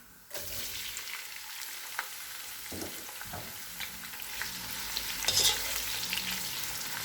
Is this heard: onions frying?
yes